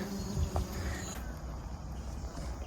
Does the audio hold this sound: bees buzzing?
yes